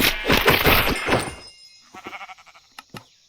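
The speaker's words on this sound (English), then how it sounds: "that one actually is a baby sheep" A tiny baby sheep in a video game bleating: a loud, quavering bleat lasting over a second, followed by a fainter stuttering bleat and two short knocks.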